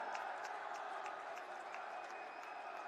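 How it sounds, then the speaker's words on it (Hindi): A large crowd at a Narendra Modi political rally in Kotputli applauds in welcome: a faint, distant, dense wash of clapping and crowd noise holds steady throughout. "तालियों के साथ में सभी अपने स्थान पर खड़े होकर जोरदार स्वागत और अभिनंदन करें"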